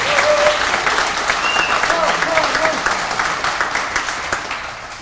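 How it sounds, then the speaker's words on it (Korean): A dense burst of audience applause welcomes a speaker at a political campaign event in Goyang, South Korea, loud and steady throughout with a few whistles and shouts, slowly fading toward the end. "큰 박수로 환영해주세요"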